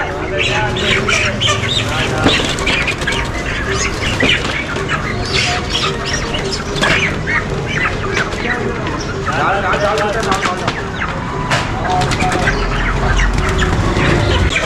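Chickens flapping and clucking inside a crowded delivery cage during shop deliveries in Pakistan, busy wing beats and bird calls running continuously under loud nearby talk and street noise.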